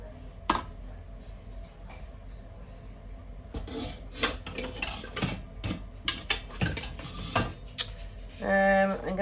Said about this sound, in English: you can see I can lift the lid.